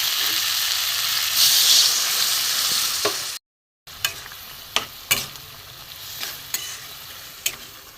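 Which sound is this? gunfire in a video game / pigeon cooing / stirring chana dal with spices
stirring chana dal with spices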